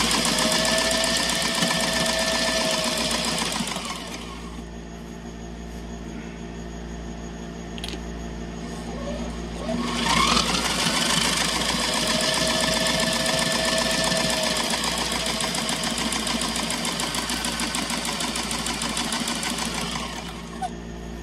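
A domestic sewing machine with a large flywheel whirs loudly and steadily, its motor drone dipping briefly before picking back up, a continuous mechanical hum with no talk.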